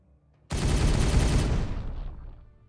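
Sustained burst of heavy gunfire from Space Marine squads in the Warhammer 40K Regicide video game, erupting abruptly after a short quiet and rumbling loudly for about a second before trailing off.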